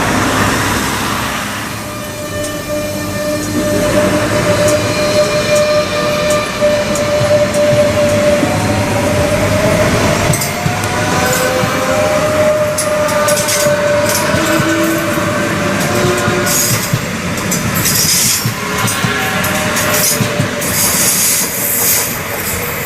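A Rodalies regional train on the R4/R1 line sits at a station between Sant Vicenç de Calders and Cornellà: a loud, steady rumble carries sustained whining and squealing tones, with sharp clicks and clatter building toward the end.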